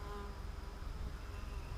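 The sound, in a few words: honeybee swarm buzzing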